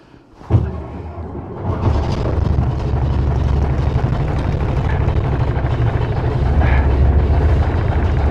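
An engine cranks and fires after the start button is pressed, settling into a loud, steady low rumble that runs unbroken to the end.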